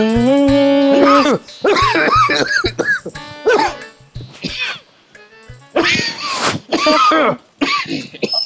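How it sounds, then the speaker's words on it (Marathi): Several rough coughs and throat-clearing bursts in quick succession, loud and close, separated by short pauses. "चेअरमन, खोकला गेला नाही का अजून?"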